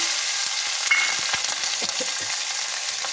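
A paste of cumin, coriander and ginger fries in a pan, giving a brief, constant hiss with small pops and stirring ticks scattered through it.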